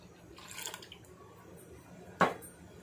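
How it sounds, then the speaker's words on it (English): Diluted milk poured into the center well of dry ingredients for cheesy mamon, a faint brief splash and drip close by, with a quiet rustle earlier and little else around it. "I will put the diluted milk in the center."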